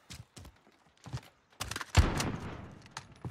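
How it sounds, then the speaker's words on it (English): Gunfire in Call of Duty: Warzone, a few scattered sharp shots followed by a louder burst of rapid fire near the end. "Shooting."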